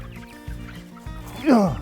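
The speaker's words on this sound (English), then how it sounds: "Okay, chasing chickens." Low, soft clucking from nearby chickens, followed by a sharper, rising squawk near the end.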